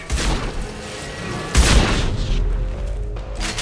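A high-impact shot fired in Mass Effect 2 lands as a deep, loud boom partway through, with a rumbling low tail that continues to the end amid the game's soundscape.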